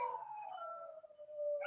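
Dogs howling in a long, wavering drawn-out tone that slides slowly downward, moderately faint and alone with no talk.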